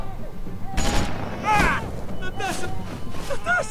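A gunshot aimed at a zombie in The Walking Dead game, heard as a few loud, booming bursts under dramatic tension, with excited voices speaking over and between them.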